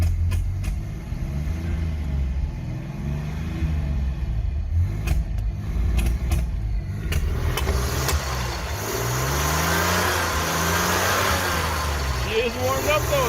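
A long-stored barn-find BMW engine, freshly warmed up, revs steadily under light throttle, a continuous mid-pitched drone that climbs and swells toward the end, with a voice speaking over it.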